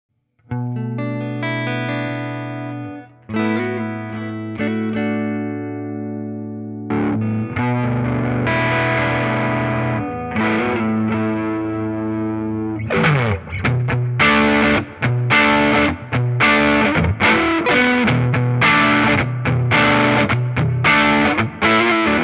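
An electric guitar played through a Caroline Guitar Company Shigeharu fuzz pedal: sustained saturated chords give way to fuzzy, chopped riffs and bright distorted strums, loud and continuous with no talking.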